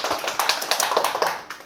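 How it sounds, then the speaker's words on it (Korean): A small church congregation at a Korean worship service claps together briefly, a quick, moderately dense patter of hand claps at close range. "우리 박수로 서로를 격려할까요?"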